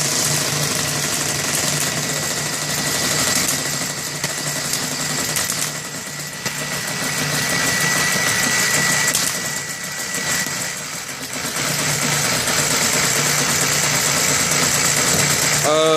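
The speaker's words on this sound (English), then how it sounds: "I'd like to demonstrate the reduction of the air engine RPM" A benchtop hybrid system's air engine runs at reduced RPM with a loud, constant mechanical hum and whine, its level dipping briefly twice before settling back.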